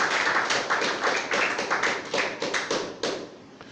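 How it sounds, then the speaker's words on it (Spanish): A church congregation at a gospel service breaks into brisk, continuous clapping, many hands close together forming a steady patter at moderate loudness with no clear speech. "den un aplauso"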